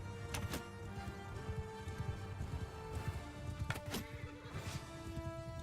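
Horse hooves pounding at a gallop in the video game Mount & Blade Bannerlord, a quick steady clip-clop rhythm running throughout amid game sounds.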